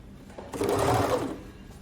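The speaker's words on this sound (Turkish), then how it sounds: "bakın şu şekilde 3 iplik overlock'unuzu gayet güzel yapabiliyorsunuz." A Tugi MK1881 overlock sewing machine runs a 3-thread overlock stitch in one steady, loud mechanical whir lasting about a second, easing in and out.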